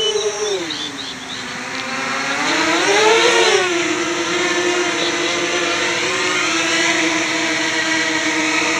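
Motors of an Armattan hexacopter drone at roughly 70% throttle, a loud close whine that rises and dips in pitch then holds a steady buzzing drone, with no talking.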